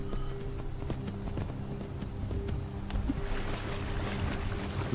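Horse hooves clip-clop at a steady trot in Skyrim, the rhythmic footfalls running throughout over a wash of ambient game sound and rushing water, with no talking.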